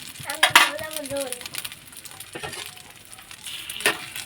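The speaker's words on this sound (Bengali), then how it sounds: "এটা ডিম ভাজা" An egg fries in a pan with a bright sizzle and a few light utensil clinks, while a voice speaks briefly near the start.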